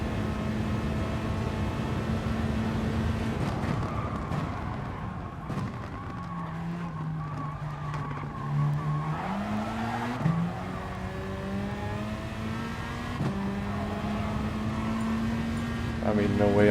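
A race car engine revs in the GT Sport video game, a steady droning motor whose pitch dips and climbs through gear changes, with tire noise and a faint murmur of talk underneath.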